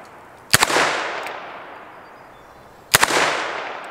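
Two sharp, loud shots about two and a half seconds apart from a Ruger Security Six revolver fired double action at steel targets, each crack followed by a long ringing decay.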